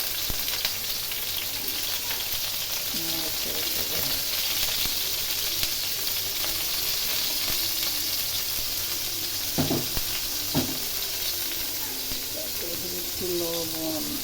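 Egg curry spices with onion paste, turmeric and salt sizzle steadily in a hot pan, a continuous frying hiss broken by occasional scraping stirs and clinks, with a voice speaking intermittently over the cooking.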